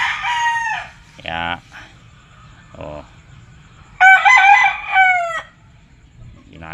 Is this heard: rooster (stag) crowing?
yes